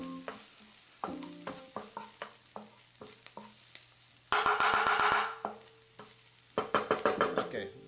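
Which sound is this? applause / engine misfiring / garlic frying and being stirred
garlic frying and being stirred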